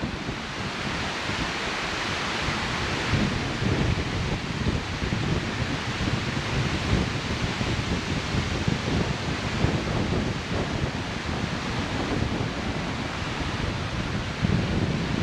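Steady wind roars and buffets outdoors at Franklin Lake in Chequamegon-Nicolet National Forest, northern Wisconsin, a broad continuous rush with no pauses, fairly loud and close to the microphone.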